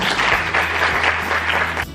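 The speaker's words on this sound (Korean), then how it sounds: "큰 박수 부탁드립니다." Big round of applause from the crowd at a planning-team launch ceremony for the 2019 Univ Expo in Busan, steady dense clapping filling nearly two seconds, then cutting off abruptly at the end.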